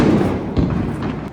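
A Diwali firecracker at a family celebration goes off in a deep, muffled thud, followed by a softer pop or two within a continuous rumbling background.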